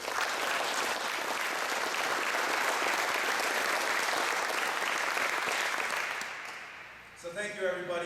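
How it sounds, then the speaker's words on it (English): An audience at a company grand opening applauds loudly and steadily for several seconds, the clapping tapering off before a voice begins speaking over the last moments. "So I'd like to give a round of applause."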